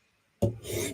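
A knife edge is stroked along the stone of a Hapstone RS sharpener while a Medford flipper or PM2 DLC blade is being sharpened. After a silent start comes one close, raspy scrape that runs for about half a second.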